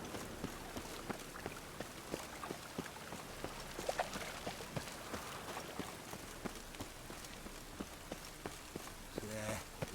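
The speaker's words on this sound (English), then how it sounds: "The rain is constant." Constant rain in The Witcher 3 makes a steady, faint patter with scattered drop ticks, and voices are heard faintly at times.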